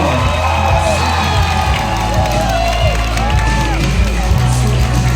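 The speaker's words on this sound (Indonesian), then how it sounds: "Mari kita sambut dengan tepuk tangan yang meriah Bapak Made Billy Udiana Sudibya" Crowd cheering and whooping with scattered applause greet a jury member at the GenRe Bali 2026 Duta Generasi Berencana pageant, a steady, loud roar of voices sustained throughout.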